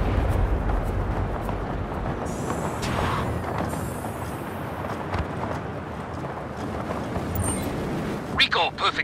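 Gunfire and explosions rumble through a Just Cause 3 battle, a continuous heavy barrage of blasts and booms with a few sharper cracks near the end, under occasional game voices.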